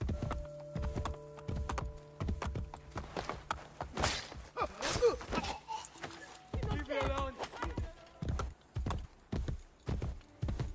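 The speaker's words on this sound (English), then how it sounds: "I'm gonna call my horse" Rhythmic hoof clip-clops of a horse moving quickly in Assassin's Creed Brotherhood, mixed with game sound effects and a sharp whinny-like burst midway.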